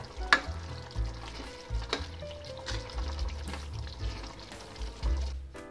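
Kasuri methi being stirred into a pan of ivy gourd (tondli) curry, with soft scraping and gentle sizzling continuing steadily and close by.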